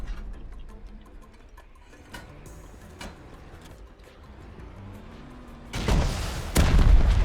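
Quiet ticking with a few faint thuds from a C4 charge in the game Rust, then a loud, rumbling explosion bursts in near the end and builds to a heavy blast.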